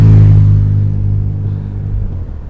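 A motorcycle rumbles past close by outdoors, its deep engine drone loud at first and then slowly fading as it moves away.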